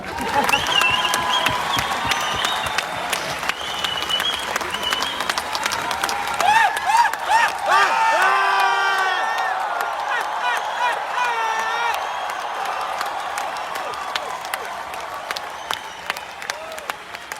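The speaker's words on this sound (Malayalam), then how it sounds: "കൈയടിച്ചാൽ നിങ്ങൾക്ക് കൊള്ളാം." An audience at a marketing convention applauds: dense, sustained clapping from a crowd with scattered cheers and whoops, loud and continuous at first and gradually thinning, with voices mixed in.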